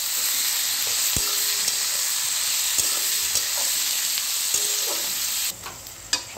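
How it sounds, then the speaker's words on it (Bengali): Onions fry in a pan for egg curry with a steady close sizzle, while a spoon stirs them in occasional scraping knocks, fading near the end. "তো আমার পেঁয়াজ ভাজা হয়ে গেছে"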